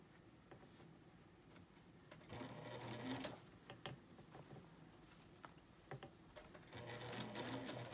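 A home sewing machine stitches a straight seam along the quilted layers and binding of a tea cozy, running in quiet bursts of rapid needle chatter with brief pauses between runs.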